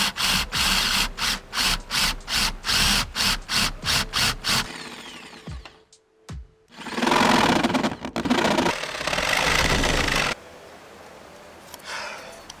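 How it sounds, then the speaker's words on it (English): A tool cuts a hole in a Sprinter van floor: a loud series of rhythmic rasping strokes is followed by a brief pause, then longer sustained grinding bursts, close and harsh. "I'm about to cut a hole in the middle of my van."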